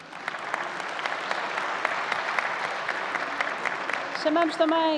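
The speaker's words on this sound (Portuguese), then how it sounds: "Uma salva de palmas." Audience applause for a speaker at a constitutional law event, dense and steady clapping from a large room, with a voice talking over it near the end.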